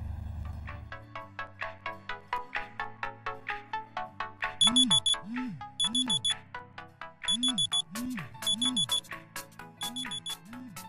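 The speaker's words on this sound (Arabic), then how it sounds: "من أكثر الاختراعات إزعاجاً وصوته له قدرة كبيرة على استفزازنا كل صبح المنبه" An alarm clock rings with a musical ringtone: a run of rapid melodic beeps, then repeated bursts of bright, chirping tones with a falling swoop, loud and close, looping rhythmically.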